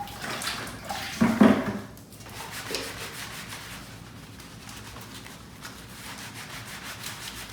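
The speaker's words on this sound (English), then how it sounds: "some more water here" Water splashes and pours over a long leg cast during a shower, with a louder splashing burst early on and then a steady, softer running-water wash.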